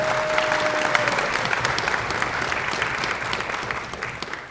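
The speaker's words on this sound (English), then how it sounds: "we'll applaud each person individually" Concert audience applauding steadily for a student orchestra member being introduced at a university symphony orchestra spring concert, dense continuous clapping throughout.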